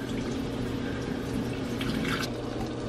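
Water is poured off a can of sweet corn kernels, producing a steady, close trickling splash throughout.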